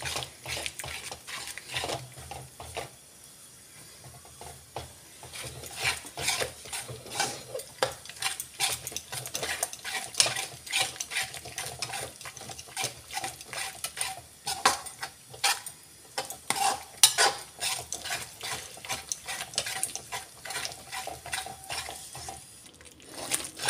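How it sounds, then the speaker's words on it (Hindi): Spices cook with yogurt and cream in a pan over medium heat for a restaurant-style mixed vegetable dish. A soft continuous sizzle runs under frequent clattering spatula strokes against the pan, close by, with no talking. "तो ये देखिए हमारे मसाले भुन चुके हैं।"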